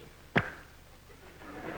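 A comedian's single short, sharp vocal pop, a lip-smacking click made with the mouth to imitate a period, quick and close, followed by faint murmuring from an audience.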